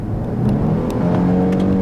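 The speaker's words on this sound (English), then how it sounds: "it actually had a supercharger line for a split second there" A 2019 Volvo S60 T6 R-Design AWD with a supercharged engine accelerates, giving a steady, loud engine drone with a faint supercharger whine running throughout, heard up close with no talking.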